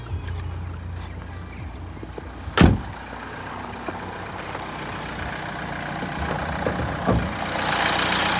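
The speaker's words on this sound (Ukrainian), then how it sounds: "Двигунчик працює ідеально" A 2012 Renault Megane III 1.6 dCi diesel engine idles steadily with a low, even rumble, interrupted by one sharp knock near the middle and a rising hiss toward the end.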